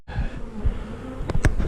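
Honey bees of Georgia stock hum steadily around an open hive, a close, continuous buzz with a few knocks and bumps near the end.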